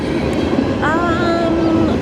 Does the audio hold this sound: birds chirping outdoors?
no